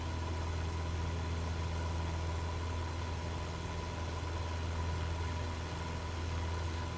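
A single-engine aircraft in Microsoft Flight Simulator runs rough with a faulty grinding tone, a steady close engine drone with low hum and gritty texture held constantly throughout, with no talk.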